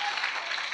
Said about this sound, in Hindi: ताली बजा के प्रभु के नाम की स्तुति करें।